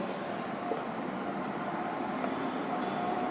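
A pen scratches faintly across paper in a classroom lesson on accounts, a soft continuous scribbling under steady room hiss.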